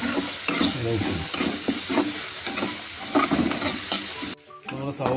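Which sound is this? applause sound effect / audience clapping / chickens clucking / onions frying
onions frying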